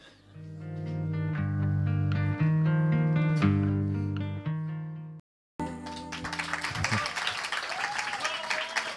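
Audience applause for a singer bursts out after a short gap, following a sustained piano-and-music passage that fills the first five seconds; the clapping is dense and fairly close.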